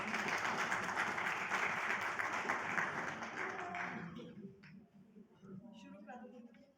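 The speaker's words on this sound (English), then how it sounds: "Big round of applause to her." A crowd applauds steadily for several seconds, the clapping fading out as a voice begins speaking over a quieter room.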